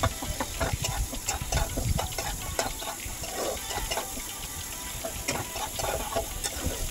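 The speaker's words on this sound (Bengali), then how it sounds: "মশলাটা পুড়ে পুড়ে যাওয়ার আগে আমি একটু জল দিলাম।" Spice paste sizzles and crackles in hot oil in a village kitchen as water is poured in, with a steady close frying hiss and stirring scrapes throughout.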